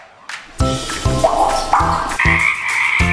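A frog chorus starts from near quiet and builds into regular throaty croaks about every half second, joined by a higher trill, close and loud, with nobody talking.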